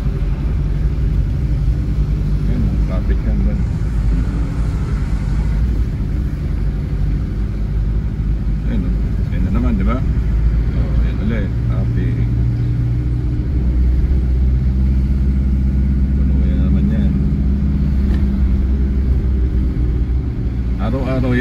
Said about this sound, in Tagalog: O, traffic yan.